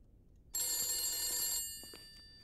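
Telephone ringing inside a house in the video game The Beast Inside, a loud continuous bell tone that starts abruptly, holds for about a second, then cuts off, leaving faint room noise.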